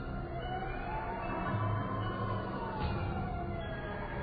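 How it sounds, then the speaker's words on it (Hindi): An ambulance siren wails continuously with slow rising and falling sweeps over a dense, rumbling traffic-like background, steady and moderately distant. "कुछ देर में जब एम्बुलेंस आई"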